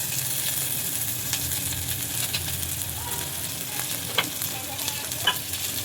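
Onion with cumin and garlic paste fries in a pan until browning, a dense steady sizzle with a few sharp pops and spatula scrapes from stirring near the end, no talking.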